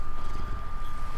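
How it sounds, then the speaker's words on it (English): A cat purrs right against the microphone, a soft, low rumbling purr that runs continuously, with a faint steady tone in the background. "You might hear a little cat purring on there."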